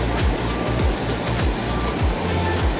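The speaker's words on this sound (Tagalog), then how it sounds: "unti-unti nang lumalakas ang tunog ng kumaragasang tubig." Rushing waterfall in a canyon in Banff National Park, a loud, steady roar of falling water with broadband wash and recurring low surges, no voices over it.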